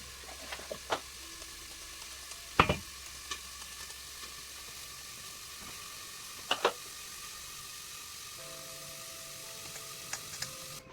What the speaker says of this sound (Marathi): परत थोडंसं पाणी टाकून घेऊया. थोड्या वाफेवर टाकून ठेवूया.